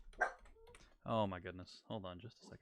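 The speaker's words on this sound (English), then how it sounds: "Oh, sorry if you hear dogs barking, that's going to be annoying." A pet dog barks and whimpers in the background of an online parliamentary roleplay session, its short yelps mixed under a person speaking close to the microphone.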